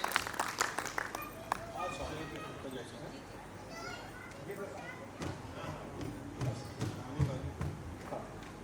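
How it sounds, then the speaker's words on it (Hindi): An audience at a Hindi poetry recital claps in a brief burst of applause, then it fades beneath murmuring crowd noise and a few scattered claps and knocks. "अपनी तालियों के साथ आमंत्रित करिए"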